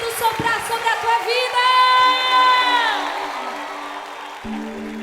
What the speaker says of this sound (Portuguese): Aplauda mais forte ao Senhor.